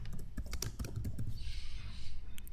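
Typing on a computer keyboard: a quick run of close, crisp key clicks with brief uneven pauses and no voices.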